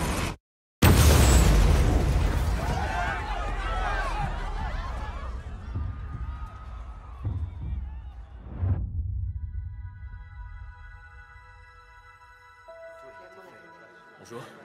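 An explosion at the Boston Marathon in a film trailer: a sudden, heavy blast after a brief silence, then a long rumbling decay and ringing that fade out while voices and score are heard faintly.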